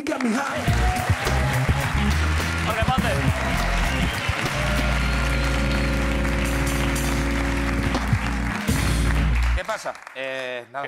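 A studio audience at the late-night show La Resistencia applauds a guest, loud sustained clapping over a steady band playing underneath, cutting off sharply near the end where a voice begins speaking.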